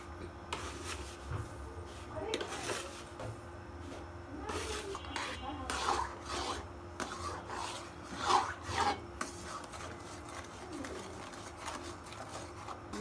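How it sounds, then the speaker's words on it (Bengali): Homemade tomato sauce with salt and sugar being stirred steadily in a pan, a quiet rhythmic rasping scrape of the spoon repeating across the clip, with faint background sounds and no words spoken. "নাড়তে থাকবো একভাবে"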